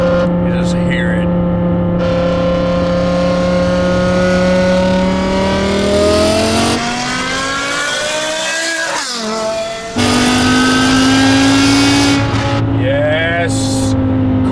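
A 2008 BMW E60 M5 with a manual-gearbox V10 engine is held at high revs close by, its loud droning note climbing, dropping sharply, then revving up again.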